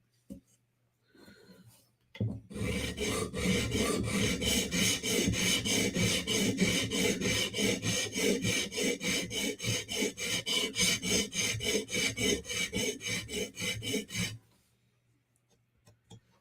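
A blade being sharpened with rapid, regular forward strokes on a stone, a loud close rasping that repeats in a steady rhythm for about twelve seconds and then stops.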